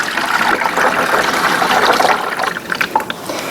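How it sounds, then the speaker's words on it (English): Hot water pours steadily into a mixing bowl for rosemary dill bread dough, a continuous close splashing trickle with no talk over it. "We're going to start with 4 cups of hot water."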